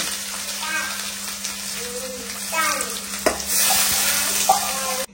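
A voice speaks at first over quiet frying. Then fennel seeds drop into hot oil and burst into a loud, bright sputtering sizzle that keeps going to the end.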